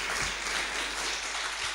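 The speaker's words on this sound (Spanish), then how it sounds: "le damos un fuerte aplauso al Señor," A church congregation claps during a worship service, producing a steady, dense burst of applause that fills the whole short moment with no break.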